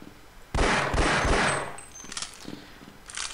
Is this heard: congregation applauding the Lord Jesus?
no